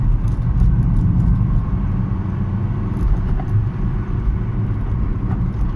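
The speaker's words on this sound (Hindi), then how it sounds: "डीजल की गाड़ी मतलब रेस देती मैं पीछे को हो जाता हूँ बिल्कुल।" A diesel Hyundai i20 car accelerating hard toward top speed, heard from inside as a steady, loud low engine and road rumble that holds constant throughout with no talk.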